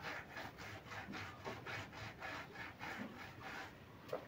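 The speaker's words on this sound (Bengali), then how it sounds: "হালকা জল দিয়ে এইভাবে ঘষে ঘষে এটাকে ভালো করে পরিষ্কার করে নেব" A damp cloth rubbed back and forth over a bicycle being cleaned at home, steady close scrubbing strokes in a regular rhythm, about eight passes, with no voices.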